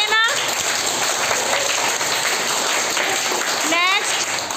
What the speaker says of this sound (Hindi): तो तालियां जोर से आनी चाहिए ना